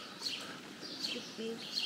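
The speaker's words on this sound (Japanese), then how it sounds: "小鳥がたくさん来ておりまして" Small birds chirp outside a youth hostel in Bern, Switzerland, giving short, bright tweets that repeat every second or so, fairly quiet against a soft background hum.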